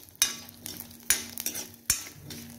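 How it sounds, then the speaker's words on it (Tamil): Peanuts and other ingredients are dry roasted in a pan, with three sharp scraping stirs of a utensil against the metal over a quiet, faint background. "மற்றதெல்லாம் வறுபட்டுச்சு, இந்த நிலக்கடலாம் கொஞ்சம் டைம் பிடிக்குது."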